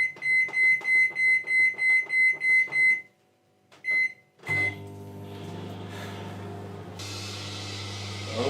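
A microwave oven with an apple in a cappuccino cup gives a run of about nine evenly spaced electronic beeps, falls briefly quiet, then settles into a loud, steady low hum as it runs.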